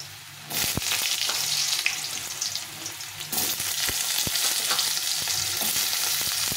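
Potatoes fry in hot oil, a loud, continuous close sizzle with occasional sharp ticks and spatters, heard alone.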